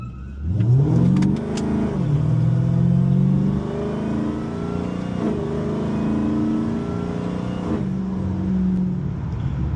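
A powerful Dodge Hellcat engine revs hard and accelerates loudly, dropping back between bursts and roaring up again in a steady, close-up growl.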